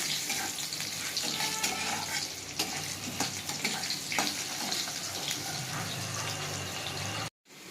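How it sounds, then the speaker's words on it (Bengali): Potatoes frying in oil in a kadai with five-spice seeds, a steady hissing sizzle with soft scraping and stirring close by, running evenly and then cutting off abruptly near the end. "আলুটা ভাজা ভাজা করে নিয়েছি"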